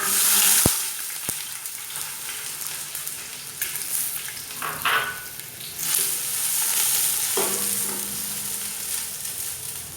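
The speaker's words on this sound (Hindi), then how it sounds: "प्याज को थोड़ा ब्राउन कर लेंगे।" Onions fry in hot oil, giving a steady, fairly loud sizzle with a few sharp clicks at the start and occasional stirring scrapes mixed in.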